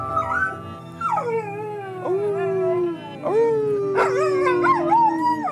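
A pampered dog in a Los Feliz home howls and whimpers continuously, long wavering cries sliding up and down in pitch, loud and close with no talk.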